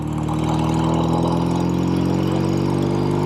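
A 1968 BSA Thunderbolt 650 motorcycle engine runs steadily at a close, loud idle with an even throbbing rumble throughout, no voices over it.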